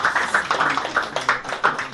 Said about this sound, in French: Applaudissez alors pour lui.